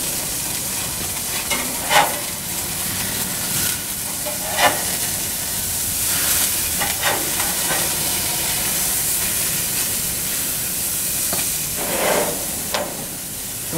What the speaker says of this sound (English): It's been about 6 minutes, so it's time for us to flip these hamburgers.